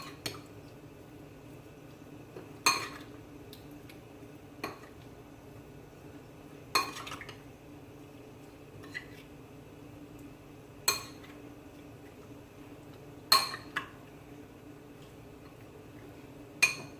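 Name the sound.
mixing black pepper into steamed shrimp and mussels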